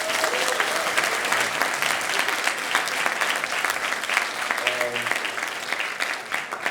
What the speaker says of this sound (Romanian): vă rog să apreciem printr-un rând de aplauze